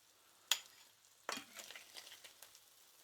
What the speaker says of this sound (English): Give the sauerkraut a stir.